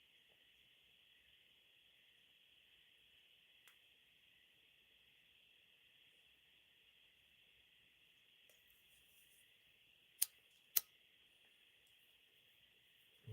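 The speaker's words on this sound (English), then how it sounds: "Oh, there's a lot of crickets." Crickets chirp in a steady, high, continuous trill that holds faint and unbroken in quiet surroundings, interrupted only by a couple of sharp clicks near the end.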